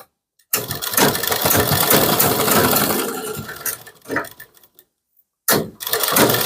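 An electric sewing machine stitches the sleeve of a kurti in a bursty mechanical whir. A long run is followed by shorter starts and stops, and there are near-silent gaps between them.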